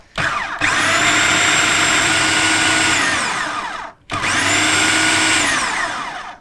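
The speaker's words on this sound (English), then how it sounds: "We don't want to blitz this for very long, just a couple of seconds until the mixture becomes more like sort of like a puree" A blender blitzes a mushroom cutlet mixture in two short bursts, a loud steady motor whir of about three seconds, a brief stop, then a second whirring run that fades slightly toward its end.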